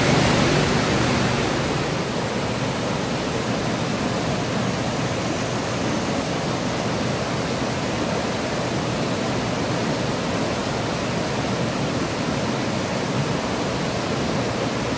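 Strong, heavy water pours over Phlio waterfall in Chanthaburi, a steady broad roar of rushing flow that stays close and loud throughout with no voices.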